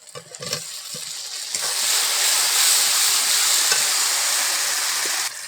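A spice masala for Bengali pea kofta curry sizzles and fries in a pan while being stirred, a loud steady hiss after a few scraping stirs at the start, close up and without talk.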